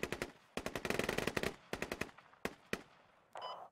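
Rapid automatic gunfire in the military shooter game Squad, sounding as dense bursts of shots with brief pauses and a few single cracks, fairly loud and with no talking over it.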